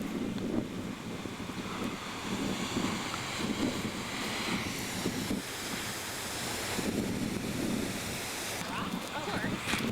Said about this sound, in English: Swells are unbelievable. They're at least 8 feet.